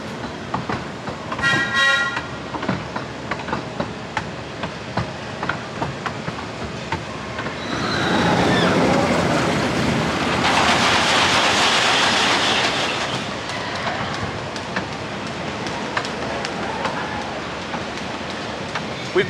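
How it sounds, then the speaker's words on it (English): The Ghost Train ride at Blackpool Pleasure Beach: a whistle toots early, cars clatter along the track, then a loud rushing burst of effects swells mid-ride before settling back to rumbling and clicks. "It's always good to do the Ghost Train."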